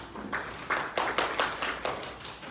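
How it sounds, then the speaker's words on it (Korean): Applause from a seated audience at a Sony RX series camera launch event as a marketing executive is welcomed to give opening remarks; sparse, scattered clapping in uneven bursts, fairly quiet and fading toward the end. "큰 박수 부탁드립니다."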